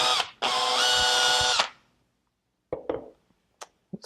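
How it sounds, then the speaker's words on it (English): A power drill bores a plug hole in a wooden chair leg, whining loudly for about a second. A few short wooden knocks and taps follow in the quiet workshop. "I'm going to drill one more time."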